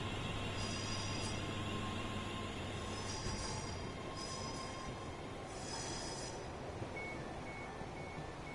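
A Class 390 train in Train Sim World 5 runs steadily with a continuous broadband rumble, while high wheel squeal rises in bursts partway through and thin intermittent tones pip near the end.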